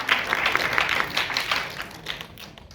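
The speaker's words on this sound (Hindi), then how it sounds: "आप तालियां वाले ठोक दीजिए।" Audience applause at a World Hindi Day poetry event in Mumbai, a dense burst of many hands clapping close and loud, steady at first and thinning slightly toward the end.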